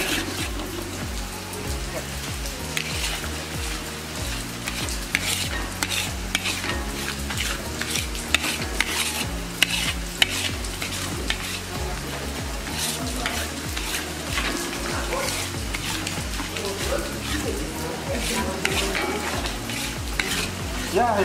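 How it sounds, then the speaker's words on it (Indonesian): Opor ayam, chicken simmering in coconut milk, is stirred and fried in a pan, with a continuous sizzle and repeated scraping stir strokes running steadily throughout, close and fairly loud, with no talk. "Ya, inilah Pak Asep sedang menggoreng-goreng opor."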